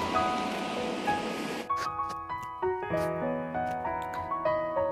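Rushing water from a mountain waterfall on the Amarnath Yatra route, a dense steady roar for about a second and a half before it gives way to ringing tonal music.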